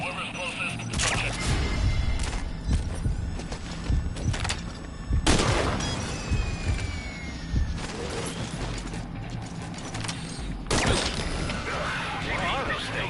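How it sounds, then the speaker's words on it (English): Bursts of gunfire in the stealth video game Metal Gear Solid V crack out repeatedly among mechanical clatter and background game ambience, while radio voices talk throughout. "We're hearing gunfire."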